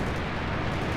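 A Panzer IV tank is destroyed in the Company of Heroes 2 game during a 4v4 match, a dense rumbling explosion filling the whole brief moment, loud and sustained without a clear onset.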